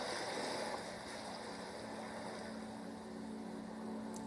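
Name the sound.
ocean waves breaking on sand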